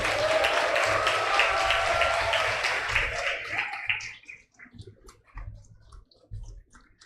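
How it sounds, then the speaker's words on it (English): An audience applauds academic prize winners at a college foundation day, loudly and steadily for about four seconds, then the clapping thins out into a few scattered claps that fade away. "A big hand of applause for all the academic prize winners."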